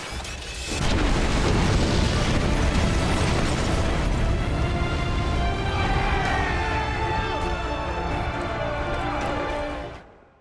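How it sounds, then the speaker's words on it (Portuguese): Dynamite goes off in a World War I battle video game, a loud close blast that fills the clip with a heavy rumbling roar and debris, then fades as a musical game score rises before cutting out. "Agora eu vou explodir isso aqui tudo"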